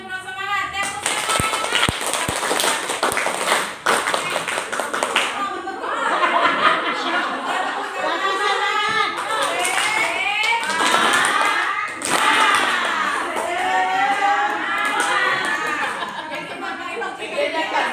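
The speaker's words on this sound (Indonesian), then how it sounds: "Kita kasih aplaus dulu buat narasumber kita hari ini" Audience applause for a guest speaker at an Indonesian school gathering: scattered clapping comes first, then people laugh and chatter loudly over the rest.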